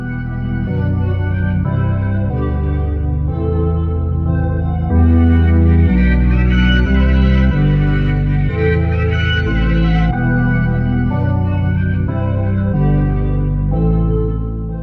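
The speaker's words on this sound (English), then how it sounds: "now we're actually gonna add a synth bass, and this is simply just gonna play the root notes of the chords" Synth bass holds the root notes of the chords inside a summery Afrobeat and dancehall beat built with stock plugins, a steady layered groove with bright chordal parts and a fuller stretch in the middle, no voices.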